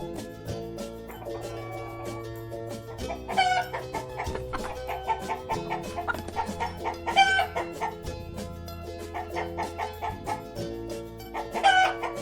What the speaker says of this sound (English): hen माने मुर्गी